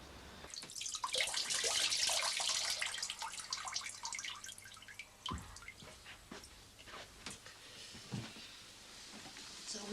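A tap runs into a bath in a domestic bathroom, a steady hissing gush at first that gives way to lighter splashing and drips, with a few scattered knocks around it.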